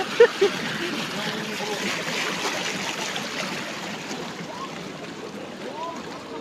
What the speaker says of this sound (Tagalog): Kung makikita po natin, uh, napakalakas po ng tubig talaga